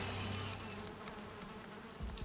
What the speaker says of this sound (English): Those are some angry bees right now.